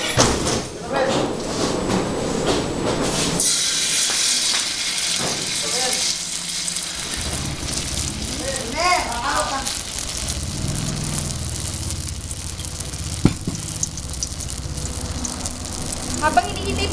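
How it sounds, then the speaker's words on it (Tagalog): Ingredients hiss and sizzle in a hot frying pan, a steady crackling frying noise with occasional thumps and clatter as a person talks over it. "pwede na po natin ilagay yung ating ipa-fry"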